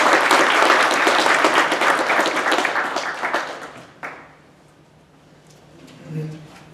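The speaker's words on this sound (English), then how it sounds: "another big round of applause for all our partners here at Valley Vision" Audience at a forestry and biomass event applauds steadily and loudly, then the clapping thins out and fades to near silence after a few seconds.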